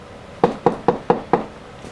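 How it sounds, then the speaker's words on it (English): Five sharp knocks on a temple door land in an even rhythm, close and loud, followed by a brief quiet pause. "we're going to knock"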